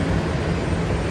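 Airplane engine at an airport before boarding, a steady broadband roar with a low rumble, loud and close for a brief stretch with no speech.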